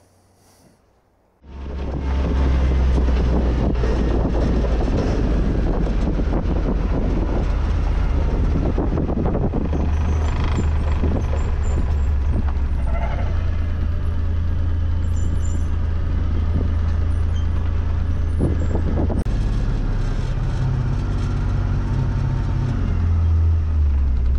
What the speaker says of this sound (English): I'm going to drive my trailer over here and park it next to this